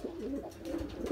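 Racing pigeons cooing at their loft, a soft, steady murmur of low, rolling coos from several birds close by, with no talking.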